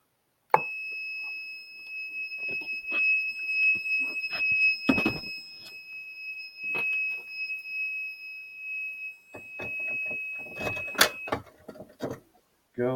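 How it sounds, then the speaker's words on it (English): A fire alarm system in alarm mode sounds a steady high electronic tone that runs unbroken for most of the time, with handling clicks and bumps and a person talking over it, then it stops near the end. "you'll see that the alarm goes back into an alarm mode"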